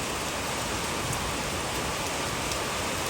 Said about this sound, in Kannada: ಮಳೆ ನೋಡ್ರಿ ಎಷ್ಟು ಜೋರು ಬರಾಕತ್ತೈತಿ